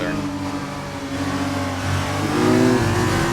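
An F2 race car engine drones and climbs in pitch as it accelerates under full throttle in a racing video game, a steady close whine rising toward the end over a layer of background commentary.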